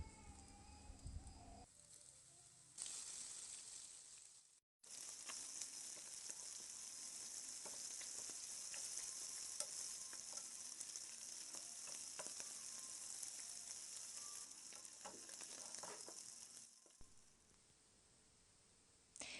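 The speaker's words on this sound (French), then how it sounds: "j'ai mis ma poêle sur le feu à chauffer. Donc voilà, je commence la friture." Food sizzles and crackles steadily in a hot pan, a bright continuous hiss with scattered pops after a brief clatter at the start.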